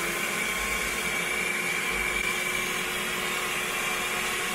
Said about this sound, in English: Now we try our vacuum cleaner and to test if it can